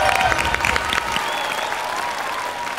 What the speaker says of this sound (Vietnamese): Vỗ tay cho cô.